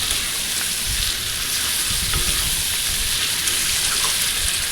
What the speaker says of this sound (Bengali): এবারে মশলাটাকে দিয়ে একটু ভালো করে নাড়াচাড়া করে কষে নেব।